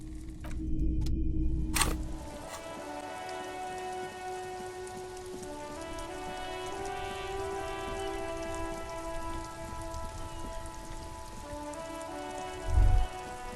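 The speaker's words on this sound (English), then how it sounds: "Droplets of rain fall on the white on blue police livery of the motor carriage." Rain pattering on the white-on-blue police livery of a motor carriage in the video game Disco Elysium, a steady dense wash of droplets under held musical tones, with a brief louder knock near the end.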